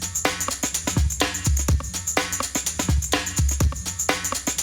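A funk drum break loops with punchy kicks, snappy snare hits and steady hi-hats, a sharp rim shot cracking on top in a tight repeating groove, close and loud, with no voices.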